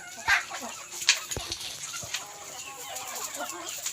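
A Thai fighting rooster clucks and calls close by in a few sharp, scattered bursts, with softer farmyard rustling and a faint voice in the background.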